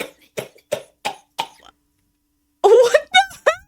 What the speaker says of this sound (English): Okay, this is a normal cough,